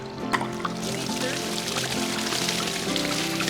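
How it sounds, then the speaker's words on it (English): Water pours steadily into a newly built garden pondless stream, a dense continuous rushing and splashing that runs the whole time, loud and close, with a voice briefly audible over the flow. "Oh my God, that's a lot of water."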